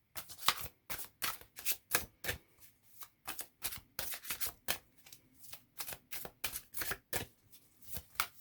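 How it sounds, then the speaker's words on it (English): Tarot cards shuffled by hand, a steady series of crisp riffling bursts, close and loud, repeating in quick rhythmic cycles with short pauses between. "Kind of want to pull a card for us, shall we?"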